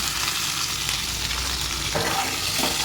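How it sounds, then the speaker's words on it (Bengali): Cauliflower florets frying in oil in a pan, a loud steady close sizzle with soft stirring scrapes and a couple of louder clattering stirs toward the end. "এর মধ্যে আর একটু তেল অ্যাড করব, ফুলকপিগুলো ভেজে নেব"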